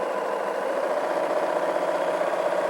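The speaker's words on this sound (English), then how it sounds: "We're just going to continue sewing around in a circle." A sewing machine runs steadily while stitching around the sides of a fabric basket, producing a continuous close whirring hum with no pauses and no voices.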